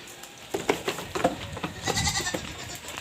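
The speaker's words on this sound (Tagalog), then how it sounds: "Ando doon na yung isa nating kambing na naka free range." Goats bleat repeatedly on a farm where free-range native goats roam, several close, loud bleats in irregular bursts with some scuffling and faint farmyard background.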